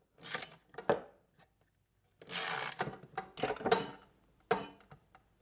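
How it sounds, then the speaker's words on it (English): Ratchet tightening the blade bolt during a trimmer plus edger blade replacement: several bursts of rapid clicking from the pawl, close and crisp, separated by short pauses, with no talk. "I'm going to flip my ratchet back, opposite of how you would normally be doing something like this"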